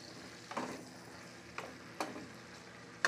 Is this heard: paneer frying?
yes